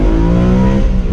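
A manual BMW E92 M3 accelerates, its engine note a loud, close, rising drone that holds steady throughout the brief burst.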